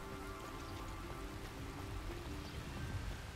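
Steady rain pours down across a wizarding-school landscape in the game Hogwarts Legacy, a dense, continuous hiss of drops with a low rumble beneath and faint musical tones, no voices over it.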